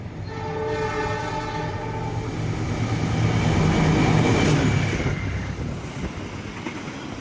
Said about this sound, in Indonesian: di stasiun Bojong kita akan tunggu bersilang dengan kereta api Lodaya dari Solo Balapan